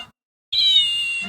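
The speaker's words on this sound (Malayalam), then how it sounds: "ഞെക്കണം എന്നാലേ ഇത് ശബ്ദം ഉണ്ടാക്കുവോ?" A squeezed toy cat lets out a single electronic meow after a brief pause, a clear sustained tone lasting under a second, near and fairly loud, with faint handling noise around it.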